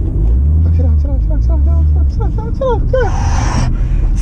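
A car is driven on the Nürburgring track. Its low engine rumble holds steady for about two seconds, then drops away, while people talk excitedly over and after it.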